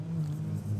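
Nissan Micra race cars on the Trois-Rivières Grand Prix circuit, a steady, loud engine drone holding a constant low hum throughout the brief moment, with no voices.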